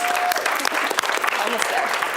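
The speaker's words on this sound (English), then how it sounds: "Please give them a loud round of applause." A crowd at a children's speaking event claps in sustained applause, dense and lively throughout, with a few voices mixed in.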